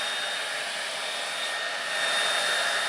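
Steady broadband whoosh of an Infiniti Conair Tension blow dryer, model D214SR, running continuously up close with an even airflow roar that swells slightly near the end, no voices.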